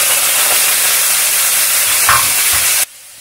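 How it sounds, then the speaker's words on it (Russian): Chicken hearts fry in a spoonful of hot oil in a frying pan, giving a loud, steady hiss and sizzle up close that cuts off abruptly near the end. "Чувствуете, зашкварчало. А теперь сразу куриные сердца."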